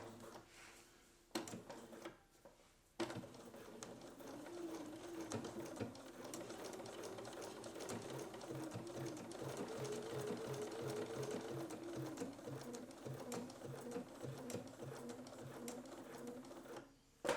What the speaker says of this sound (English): set your machine for a teeny tiny zigzag and go back and forth over it a couple times